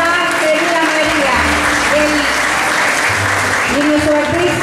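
Audience applause at a tribute event in Río San Juan honoring a woman named María, steady and loud throughout, with tonal music or singing lines running underneath the clapping.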